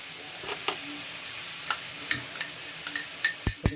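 Spices, garlic and onion crackle in a dry pan with no oil, a series of sharp clicks and taps that grow busier toward the end, close and fairly loud.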